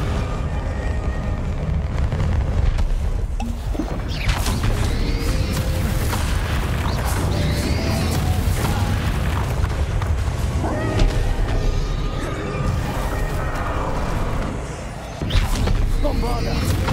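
Bombarda and Confringo spell explosions in Hogwarts Legacy: repeated heavy booms and crackling blasts in a dense, continuous combat mix, with a voice talking over them.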